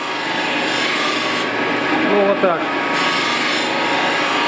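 A wooden tabletop is sanded flat with a steady, loud abrasive rush that continues throughout. Someone speaks briefly over the grinding.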